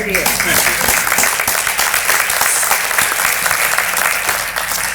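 A loud, sustained burst of crowd clapping fills a hall during a state of the county and city address at a breakfast event, dense and close, with some voices mixed in beneath it.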